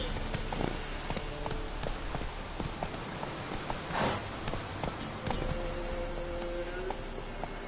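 Hooves of Roach, a horse in The Witcher 3, beat a steady clip-clop rhythm at a gallop, close and clear across the whole stretch, with a brief whoosh and a faint tone near the end.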